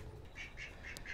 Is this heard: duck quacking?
yes